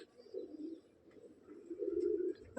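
Pairs of white-eyed pigeons coo softly, low throaty calls rising and falling in two separate phrases at a quiet, close distance with no talk.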